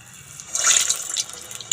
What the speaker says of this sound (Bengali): আমার তেলটা কিন্তু গরম হয়ে গেছে আর দেখো আমি এরকম করে করে ফুরুলিগুলো ছাড়বো